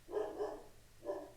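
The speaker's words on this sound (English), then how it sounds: "I do apologize if you hear my dog barking." A dog barks twice, muffled and a little distant, with a brief pause between the barks.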